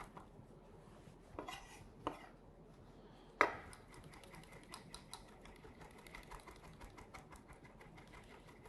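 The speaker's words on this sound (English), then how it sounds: "I'm going to chop up the capers also." A knife chops capers on a cutting board: a few separate cuts, then a quick, steady run of light taps. The sound is faint and close, with no talking.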